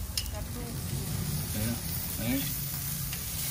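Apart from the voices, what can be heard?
beef ribs sizzling on the grill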